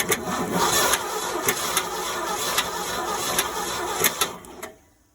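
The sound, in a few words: 1971 Ford F600 truck engine cranking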